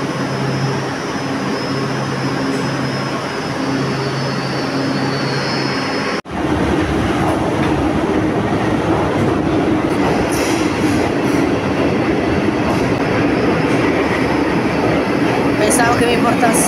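Leonardo metro train on the Milan metro, departing from platform 3, with a loud continuous rumble and rail roar inside the car that jumps sharply in level about six seconds in and holds steady throughout.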